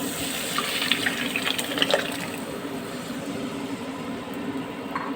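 Boiled red lentils sloshing into a pan for a tomato lentil dal, a continuous wet pouring rush that stays steady and fairly loud, close up with no talking.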